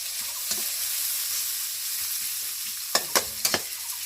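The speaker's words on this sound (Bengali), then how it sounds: "এই যে পরিমাণ মতো তেল দিয়ে নেওয়া হচ্ছে পেঁয়াজ কাঁচামরিচের ভেতরে" Onion and green chili fry in oil in a village kitchen, a soft continuous sizzle with a few sharp stirring scrapes and clinks near the end, close and without voices.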